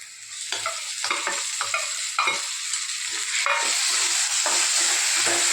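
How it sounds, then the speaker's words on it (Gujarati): Softened onions sizzle in a pan as tomato puree is poured in and stirred, a loud, continuous frying hiss broken by repeated scraping strokes of the spoon, with no talking. "હવે આપણે આ ટમેટાની પ્યુરી એડ કરી દઈ"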